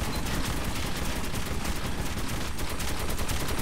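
Sustained rapid gunfire in the post-apocalyptic shooter Metro 2033 Redux on PS4, a loud, dense, continuous burst of automatic shots filling the whole stretch with no pauses.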